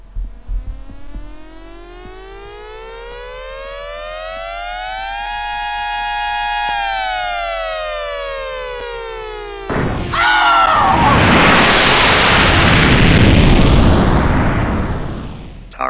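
Dubstep song outro: loud rising and falling electronic siren sweeps for about ten seconds, then a heavy boom and a dense roaring wash of noise that swells and fades.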